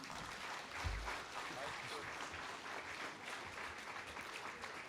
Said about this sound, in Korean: 다시 한번 힘차게 박수 한번 쳐주세요.